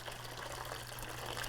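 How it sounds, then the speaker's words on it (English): Water poured into a two-quart container with a false bottom, a continuous faint splashing and gushing of liquid held steady throughout over a low background hum. "We're going to put a little bit of water in here just to put something at the bottom."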